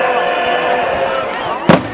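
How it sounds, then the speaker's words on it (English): Fireworks at the Zozobra burning crackle over a noisy crowd, with a brief pop near the middle and one sharp, loud bang near the end. "That's what I call fireworks"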